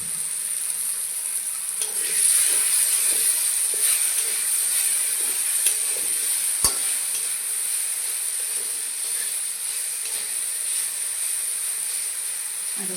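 Moringa leaves and potatoes frying in mustard oil, a steady hissing sizzle with a bright high edge and occasional soft stirring scrapes and a single sharp click, close and with no voices.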